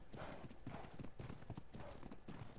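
Horse hooves clip-clop in the video game Ark, a quick, even rhythm of close hoofbeats repeating steadily over a few seconds at low volume.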